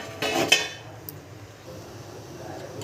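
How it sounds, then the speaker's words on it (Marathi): A steel plate, oiled on top, set down as a lid over a pot of steaming spinach balls (palak gole): a short, close clink and scrape of metal on metal, then a quiet, steady kitchen background. "आता आपण यावर प्लेट ठेवूया आणि एक दहा पंधरा मिनटं वापरून घेऊया"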